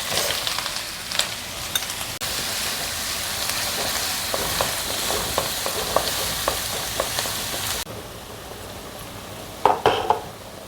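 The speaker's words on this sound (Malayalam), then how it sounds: "ഇതൊന്ന് ഇളക്കി വെക്കാം" Ginger-garlic paste with fennel seeds and two or three cardamom pods fries in coconut oil in a pan, a loud close sizzle broken by spoon scrapes and stirring clinks, then the frying drops away near the end, leaving a few sharp metal knocks.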